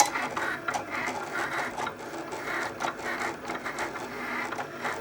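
Cricut Explore cutting machine cuts printable vinyl, its carriage whirring and buzzing in steady back-and-forth pulses at close range with no talking.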